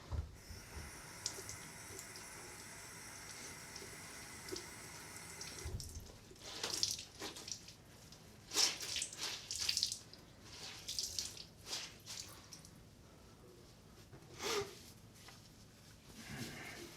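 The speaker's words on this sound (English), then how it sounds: "let me wash off my face before I do my wrap up" Tap water runs into a bathroom sink while someone washes their face, the stream starting partway through with splashing, sloshing bursts at close range, fairly faint overall.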